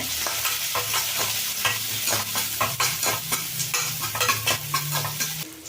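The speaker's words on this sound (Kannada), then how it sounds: "ಈಗ ಇಲ್ಲಿ ಈರುಳ್ಳಿ, ಹಸಿಮೆಣ್ಸಿನ್ಕಾಯಿ, ಬೆಳ್ಳುಳ್ಳಿ ಫ್ರೈ ಆಗಿದೆ." Onion, green chilli and garlic fry in a pan for a quick tomato sambar, giving a continuous sizzle with rhythmic stirring scrapes every half second or so. The sound is close and loud, with no talk.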